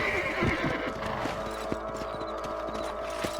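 A horse in the Red Dead Redemption game gallops with a steady clip-clop of hooves and lets out a whinny near the start, set against outdoor ambience with no speech.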